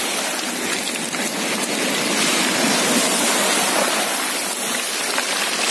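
Continuous rushing, hissing sea waves close by at Tarkhankut, Crimea, a dense steady wash with no distinct breaking swells standing out.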